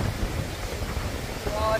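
Strong wind on Boracay beach buffets the microphone with a constant low rumble throughout, with a faint tone near the end.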